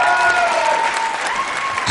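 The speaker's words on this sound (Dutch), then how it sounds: "uw applaus voor Chelsea Vermeers" A gala audience applauds the Miss Fashion Events winner at an awards ceremony, steady clapping held through the moment with a faint voice talking over it.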